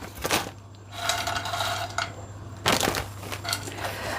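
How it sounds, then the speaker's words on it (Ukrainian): Green beans tipped onto a cold, dry frying pan with no oil, giving a run of crisp rattling clatters and taps against the metal, some bursts louder than others. "На зовсім холодну сковороду викладаємо стрючки"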